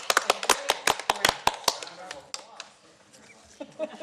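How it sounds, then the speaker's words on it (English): A short burst of applause for presenters at a Human Relations Commission meeting: a few sharp, close claps from a small group that thin out within about two seconds, followed by quiet room sound and faint talk. "Round of applause for them."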